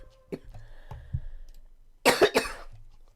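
A short burst of two or three harsh coughs from a person on a voice call with a connection that cuts in and out, close to the microphone, following a few soft clicks and quiet background noise.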